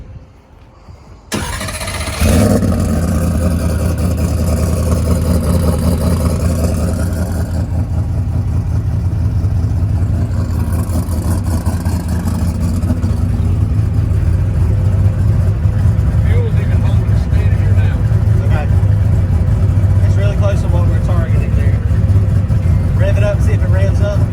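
A Ford Coyote engine fitted with a 107mm turbo cranks and fires, then settles into a loud, steady idle close by, with voices talking over the running engine.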